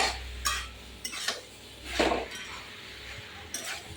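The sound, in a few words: stirring lau shak chorchori in a pot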